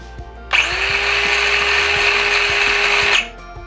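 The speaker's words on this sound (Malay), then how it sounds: "Saya nak test pula mesin circular saw" Cordless battery circular saw spinning up and running alone for about three seconds, a loud steady high whine with a rising motor tone, then stopping abruptly; no clear cutting into wood is distinguishable.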